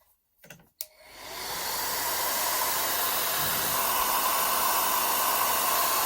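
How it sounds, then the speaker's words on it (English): A hair dryer switches on after a couple of clicks and blows a steady, loud rushing hiss of air that continues without pause. "so you could use a hairdryer to do this"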